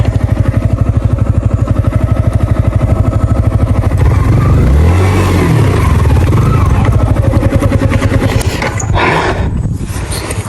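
A motorbike engine revs loudly and close on a hill road, its rapid throbbing rising and falling steadily with a clattering edge.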